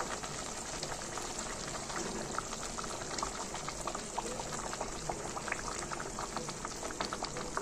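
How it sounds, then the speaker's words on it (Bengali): Egg korma with boiled eggs bubbles steadily in a pan as it simmers, a close, even stream of small pops and gurgles with no voices. "কিছুক্ষণ একটুখানি ফোটার জন্য একটু সময় দেব।"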